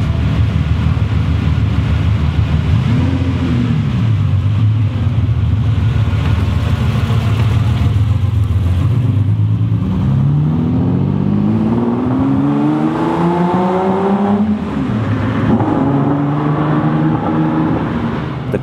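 Ferrari 250 GT Lusso engine running close and loud, settling from a steady idle into rising and falling revs with a throaty, sweeping pitch.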